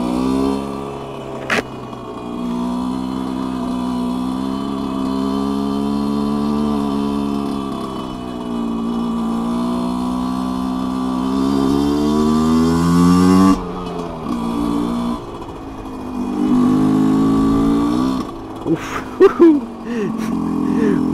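A Honda CRM motorcycle stuck in mud revs hard as its rear wheel loses grip, the engine note climbing and falling in long sustained pulls, loud and close, with sharp bursts near the end.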